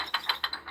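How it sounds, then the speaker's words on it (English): A rapid series of five or six small ratcheting clicks, close and fairly quiet: a model train brake wheel sound being cranked tight, played by a Soundtraxx Soundcar decoder through a 28mm speaker. "what the brake wheel would be sounding like as it's tightened"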